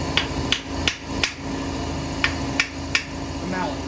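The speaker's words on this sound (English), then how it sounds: "Yeah, I'm using a mallet." A mallet strikes parts of a 283 small block Chevy engine during a teardown, landing about seven sharp, evenly spaced blows with a short pause midway, close and distinct over a faint workshop background.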